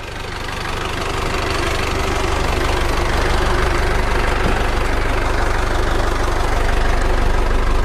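Steady idle of a 115 hp Isuzu NPR truck engine, a constant low rumble with a faint knocking texture, close and unbroken with no talk.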